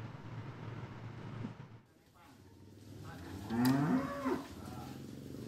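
Cattle at a cow-washing yard in the livestock market complex in Boyolali, Central Java: a loud, close moo swells and falls over steady background rumble and yard noise.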